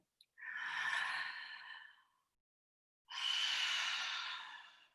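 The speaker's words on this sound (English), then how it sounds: "Let's take a big breath together." A group of people take a slow, deep breath together, with two long, airy exhales about a second apart and a silent pause between them. No one speaks.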